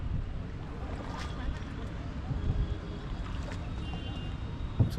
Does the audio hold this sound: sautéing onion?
no